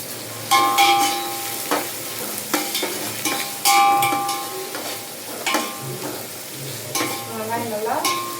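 Onions go into a pan of frying cinnamon and cloves and sizzle steadily as a spoon stirs them, with repeated sharp metallic clinks against the pan, close by and with no one talking.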